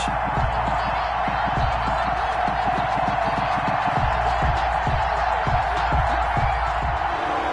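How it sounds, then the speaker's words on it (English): Stadium crowd in an EA Sports NFL video game ahead of a Tennessee Titans versus Jacksonville Jaguars matchup: a dense, steady roar of many voices with rapid rhythmic thumps and claps running through it, loud and continuous. "This crowd is ready as their guys get set to match up between the Tennessee Titans and the Jacksonville Jaguars."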